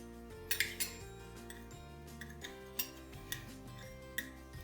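A small spoon clinks against dishes and jars in a home kitchen while chili flakes are readied for sheek kebab, giving a few sharp, close metallic taps spaced irregularly over soft background music.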